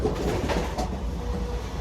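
Train coaches roll past close by in a steady, heavy rumble with rhythmic wheel clatter over the rails, continuous for the whole stretch and with no voices.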